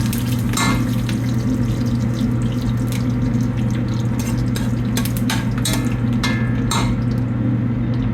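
Curry leaves, methi seeds and jeera sizzle loudly in hot oil in a pot, a dense, steady frying hiss with occasional sharper pops and crackles throughout.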